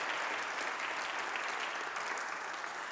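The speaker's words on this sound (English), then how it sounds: "please give a round of applause for John Chisholm" Steady, dense applause from an audience at a Milwaukee community program on youth incarceration, a continuous wash of clapping that holds evenly at moderate loudness for the whole stretch, with no voices over it.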